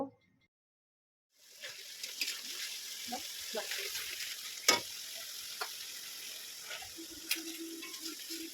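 Fish gravy bubbling on an induction cooker, a faint steady sizzle after a short silent start, with occasional soft clinks and stirring sounds, quiet and with no talking.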